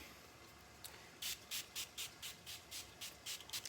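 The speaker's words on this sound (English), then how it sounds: "spray a little of my rose water." A spray bottle of rose water is pumped about ten times in quick succession, each a short, close, quiet hiss, after a brief pause.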